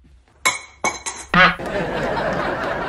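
Kitchen pans bowled across the floor clang and clatter: a few sharp metallic knocks, then one louder ringing crash followed by a lingering rattle and noisy background.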